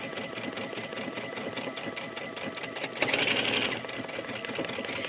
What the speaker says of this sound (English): You love it when the machine knows how fast and how slow to go to make a perfect buttonhole.